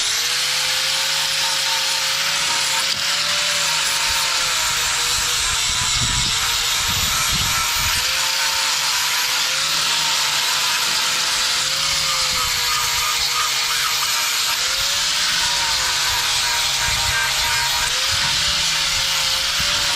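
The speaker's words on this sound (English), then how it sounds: "let me go get the grinder. All right, so flapper wheel almost worn out" An angle grinder with a nearly worn-out flap wheel grinds steel while chrome parts are fitted to a cabover truck, a loud steady high whine running the whole time with brief lower dips where the load changes.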